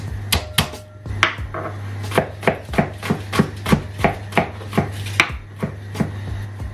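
Garlic cloves are chopped with a knife on a board in quick, evenly spaced sharp taps, about a dozen strikes in steady rhythm, close and clear over a low hum.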